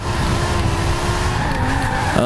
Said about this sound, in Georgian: ცოტა უფრო ცურავს მანქანა